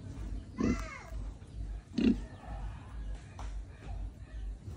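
A large farm pig grunts twice in short, deep bursts over low background noise.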